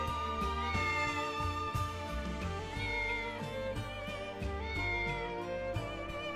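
A cat meows within the Triangle Strategy video game, its cries set against steady game music that plays throughout.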